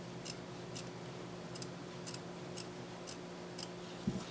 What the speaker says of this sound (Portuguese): o tecido dá apoio pra você cortar a manta